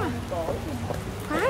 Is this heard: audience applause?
no